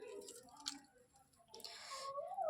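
Lemon juice squeezed by hand over soaked puffed rice in a home kitchen, giving soft wet squishes and a few faint drips, quiet and close with a brief liquid trickle near the end.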